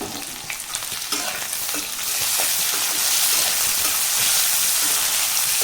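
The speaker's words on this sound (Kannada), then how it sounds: "ಎಲ್ಲ ಫ್ರೈ ಮಾಡ್ಕೊಂಡ್ಬಿಡೋಣ" About fifteen green chillies are dropped into hot oil in a pan for a chicken green gravy, setting off a close, loud sizzle that swells and thickens into a dense, steady crackle, with no voices over it.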